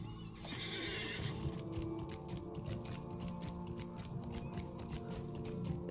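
A horse in the Lord of the Rings Online video game gives a single clear whinny, followed by steady clip-clop hoofbeats and a close-up rustle of tack.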